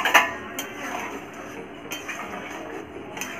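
A metal lid settles onto a cooking pot of simmering food and water, giving a few light, sparse clinks and taps over a quiet kitchen background.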